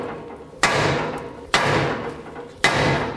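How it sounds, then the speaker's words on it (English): A hammer strikes a steering knuckle on a 2007-2010 Chrysler Sebring to free the outer tie rod stud, three sharp metallic blows spaced about a second apart, close and loud. "Now you want to hit the knuckle right here. That's going to break the tie rod stud free from the inside of the knuckle."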